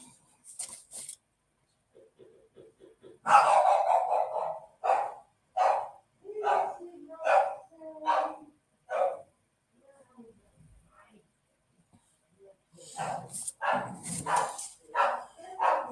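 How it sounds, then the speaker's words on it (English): A dog barks excitedly indoors in a quick run of loud, close barks, pauses, then breaks into another burst of rapid barking. "So excuse my dog going mental."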